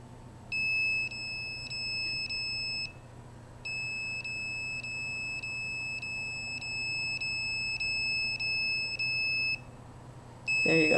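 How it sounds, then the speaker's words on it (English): A handheld microwave detector reading over its limit emits rapid, evenly spaced high electronic beeps in two long runs with a short gap between them, over a faint steady hum in a quiet room. "Notice the reading over limit on the detector."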